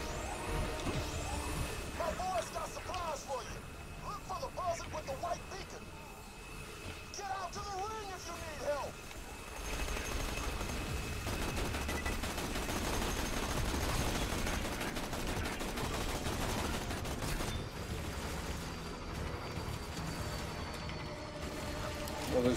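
Cannons fire in the Borderlands 2 video game, part of a dense, continuous stretch of gunfire and explosive blasts that grows busier in the second half. Voices talk over the early part.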